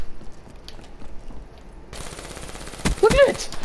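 Recoil-heavy gun firing in Call of Duty: Black Ops 3, a short burst of close, loud shots near the end following quieter game ambience.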